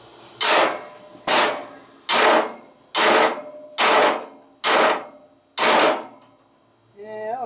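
Seven loud, evenly spaced metal hammer blows on a lawn tractor part, each sharp strike ringing briefly before the next, close and alone, with a faint voice starting at the end.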